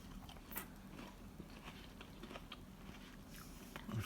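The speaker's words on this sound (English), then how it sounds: "You can bite it and eat the skin, you don't need to peel it." Someone bites and chews a crunchy fresh persimmon with the skin on, producing quiet, close, irregular crisp crunches and wet mastication with no talking.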